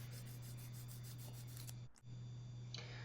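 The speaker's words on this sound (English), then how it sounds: "Use a very high grit sandpaper to almost make like a mirror-like polishing." High-grit sandpaper polishing the slip ring of a Toyota Denso alternator during a rebuild, a close, steady fine rubbing with rhythmic strokes under a constant hum, briefly pausing near the end.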